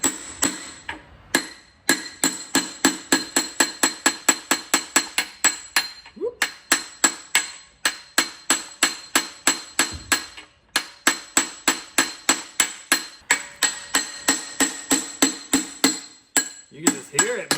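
Metal hammer blows knocking apart the seized bottom end of a 440 Six Barrel engine from a 1970 Sport Fury, a long, steady run of sharp ringing strikes repeating rapidly and loud, with brief pauses between bursts.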